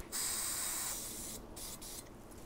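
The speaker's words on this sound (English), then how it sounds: "Always make sure to clean out the nozzle of your spray adhesive by spraying it upside down" Spray adhesive can held upside down and sprayed to clear its nozzle, a close, loud steady hiss of about a second that fades into softer intermittent sputters.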